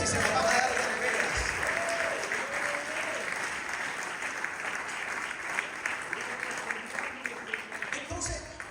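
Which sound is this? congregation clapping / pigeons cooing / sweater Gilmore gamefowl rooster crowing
congregation clapping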